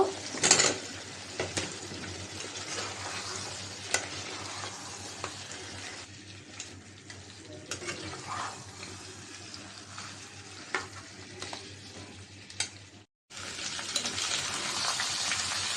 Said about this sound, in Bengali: মাংস আর আলু কষানো হয়ে গেছে